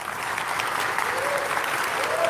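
Sustained applause fills the House of Representatives, a dense steady clatter of many hands from a large crowd, with a faint voice briefly audible above it.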